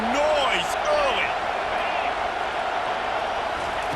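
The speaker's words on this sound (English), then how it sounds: "This crowd bringing the energy and noise early." Stadium crowd in College Football 25 during an Oregon vs Ohio State game, a steady loud roar of many voices filling the whole stretch, with scattered whistles and shouts rising over the dense continuous noise.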